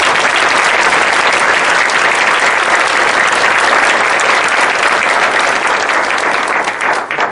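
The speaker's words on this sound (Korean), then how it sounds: "이수정 교수님께 다시 한번 큰 박수 부탁드립니다" Sustained, loud applause from a lecture audience at a court-hosted public humanities talk, a steady dense wash of many hands clapping without letup, thinning slightly only in the final moment.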